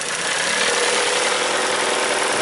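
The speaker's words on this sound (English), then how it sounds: "we're running with a single cylinder Misfire here" A 2003 Mazda Protege engine idling with a single-cylinder misfire, giving a steady, close mechanical drone with broadband hiss and a faint uneven roughness running throughout.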